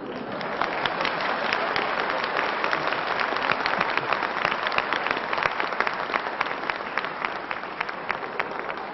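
A theatre crowd gives a sustained, loud round of applause for a French comedian's stage sketch, with crisp individual claps audible throughout a thick, steady ovation.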